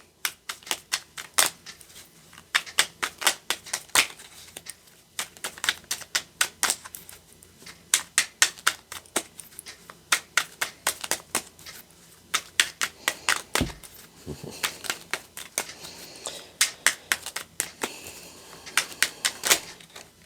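Rapid crisp clicking and flicking of tarot cards being shuffled repeats in bursts, close and fairly sharp, with brief pauses between rounds.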